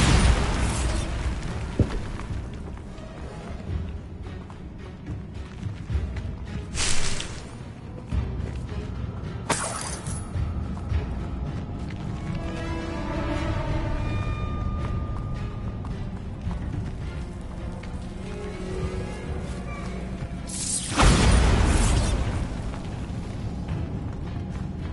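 Bombarda and Confringo spell blasts in Hogwarts Legacy go off as heavy booming bursts, with a few sharp hits standing out over a dense, continuous layer of game sound and rumble.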